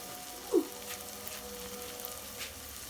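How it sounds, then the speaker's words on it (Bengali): An evening snack fries in a pan with a steady low sizzle and crackle throughout, a single brief louder pop or clink near the start, nearby and without any voices. "তো এই যে আমার সন্ধ্যার নাস্তা ভাজা হচ্ছে"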